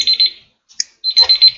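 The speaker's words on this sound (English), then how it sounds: "it's just my timer" An electronic timer alarm on a desk goes off in loud, shrill repeated beeping bursts, pausing briefly before sounding again in another rapid string of beeps.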